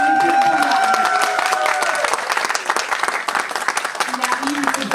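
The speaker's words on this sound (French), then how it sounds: "Sous vos applaudissements, s'il vous plaît." Audience applause at a press conference, a crowd clapping densely with some cheering, while a voice and a sustained tone ring over the start before the clapping carries on alone.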